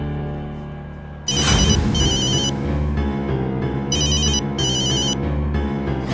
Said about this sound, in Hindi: फोन लगाता हूँ, मालूम पड़ जाएगा अभी।